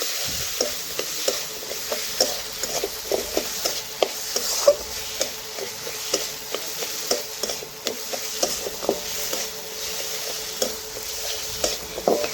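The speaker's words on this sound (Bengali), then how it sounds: "এটাও ভালোভাবে মশলার সাথে কিছুক্ষণ আমি কষে" Soaked chana dal being stir-fried with spices in a pan, a soft sizzle underneath repeated scraping strokes of a spatula in a fairly steady rhythm.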